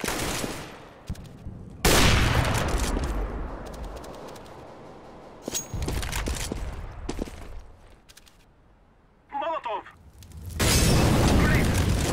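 A thrown grenade explodes in the video game CS:GO, heavy booms and bursts of gunfire in a match with radio voice callouts between the blasts.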